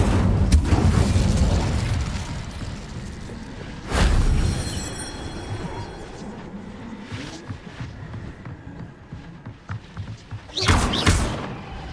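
The Incendio fire spell cast in Hogwarts Legacy, heard as heavy whooshing bursts with booming thuds, one at the start, another near four seconds and a third close to the end, with quieter clatter between.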